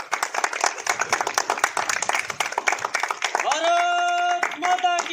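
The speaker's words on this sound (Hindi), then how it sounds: "मारो ताली।" Clapping at an Independence Day gathering, a rapid run of hand claps for about three seconds, then giving way to a sustained tonal sound with voices.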